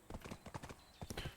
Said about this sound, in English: Apparently the horse wants to go in circles.